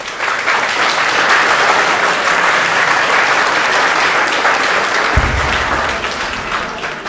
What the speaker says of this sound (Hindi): अपने लिए एक बार तालियां जरूर बजा लो मेरे कहने।